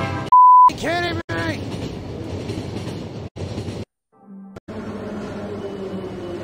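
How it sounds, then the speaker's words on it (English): Train running in the video game The Final Station, a steady rumbling rail sound with clickety-clack texture, broken by brief cuts and a short electronic beep; a voice speaks over parts of it. "Stop the train!"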